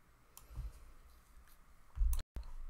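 Computer mouse clicks while using data software, a few faint ticks followed by a sharper, louder pair near the end, close up and without speech.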